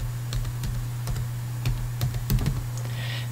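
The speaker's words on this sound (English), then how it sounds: "I'm going to log in by typing anonymous." Keystrokes on a computer keyboard while logging in to an FTP service, a series of sharp taps in short irregular bursts over a steady low electrical hum, fairly close and moderately loud.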